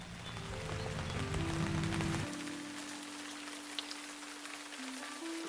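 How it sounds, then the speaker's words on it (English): Steady rain patters on a backyard pond, an even, close hiss of drops on water that continues throughout, with a low hum in the first seconds. "So here is my little story of a rainy day by the pond."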